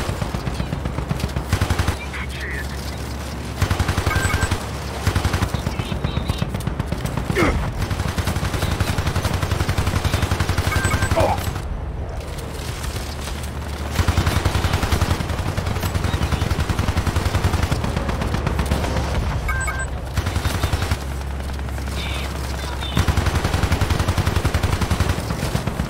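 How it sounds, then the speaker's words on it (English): Sustained machine-gun fire in the co-op shooter Hypercharge: Unboxed, loud rapid rattling bursts with brief gaps over a low rumble, no talking heard. "Somebody's shooting me right there."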